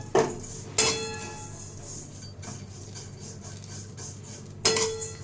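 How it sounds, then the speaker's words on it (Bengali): Vermicelli is stirred in ghee in a cooking pan, with a few sharp metallic clinks of a utensil against the pan and soft scraping in between. "এবার এর মধ্যে সিমুইটাকে আমি একটু নাড়াচাড়া করে নেব।"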